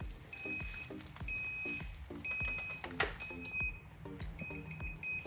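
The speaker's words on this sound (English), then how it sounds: "Once you hear those 3 beeps, you know you're all set and fully closed." A Solax Transformer auto-folding mobility scooter gives a series of short, faint, high electronic beeps in repeated groups, over quiet mechanical clicking and whirring from the folding mechanism.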